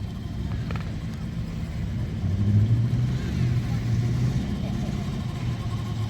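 A Rover P5B with its 3.5 litre engine running at a vintage car show in Stroud, a low steady rumble with a slight rise midway, moderately close, with people talking nearby.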